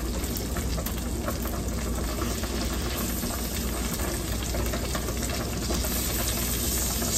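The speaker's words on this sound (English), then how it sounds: "So we're gonna start putting my shrimp in." Shrimp frying in a pan with garlic for garlic shrimp pasta, a steady dense sizzle holding at an even level throughout with no talking.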